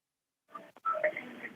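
Telephone keypad tones from a caller dialing into a virtual town hall phone line, a short burst of several distinct beeps in quick succession, fairly clear against a quiet background.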